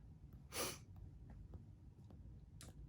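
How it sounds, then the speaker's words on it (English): A single sharp human sneeze bursts out near the start, loud and close against a quiet room hum, followed by faint breaths and small sniffs. "I needed to sneeze, I'm sorry."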